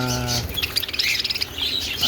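Small parakeets chirp and twitter in quick, busy bursts close by, several calls overlapping.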